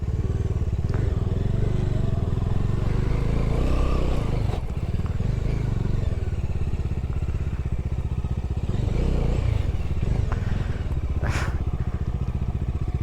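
A small motorcycle, not a true off-road bike, is ridden over rough off-road ground. Its engine drones steadily and close throughout, with occasional clatters, thumps and scrapes from the bumpy terrain.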